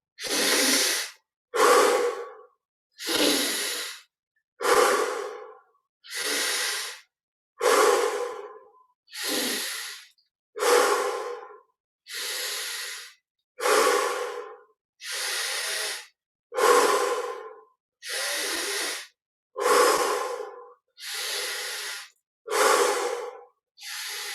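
Slow, steady breathing during a guided meditation, with about fifteen even breaths in and out in a regular rhythm, close and clear against silence, with no talking.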